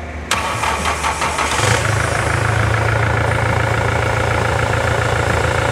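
A 2017 Toyota SW4 engine cranks and catches, then settles into a steady, loud idle that hums continuously close to the microphone, with no talking over it.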